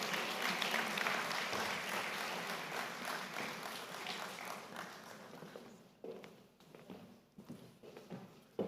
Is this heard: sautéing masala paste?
no